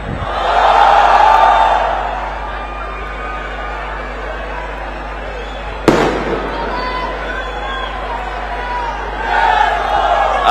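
A large crowd at a Raj Thackeray political rally on Mira Road roars and cheers loudly and steadily, with a sharp burst near the middle and a surge of shouting toward the end, voices mixed throughout.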